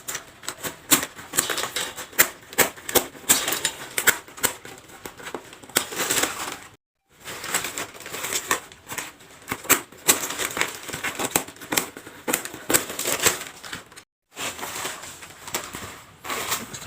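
Scissors cut plastic strap while a basket is woven from it, giving rapid, close, crisp snips and crinkles in dense bursts. Two short silent gaps break the run.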